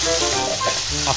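Vegetables for pinakbet fry in a pan with a steady, close broadband sizzle and faint stirring noises, briefly and without pause.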